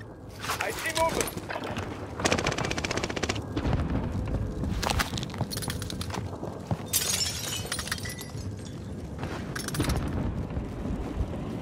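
Assault rifle gunfire in a Call of Duty match, bursts of sharp rapid shots cracking out amid shattering and clattering game effects, with voices talking over the action throughout.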